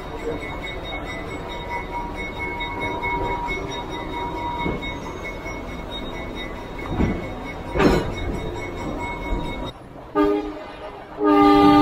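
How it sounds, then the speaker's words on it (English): A train horn on a railroad by an engine shed sounds in short blasts over a steady rumble of an engine, ending with a loud sustained tone. "That horn sounds really cool."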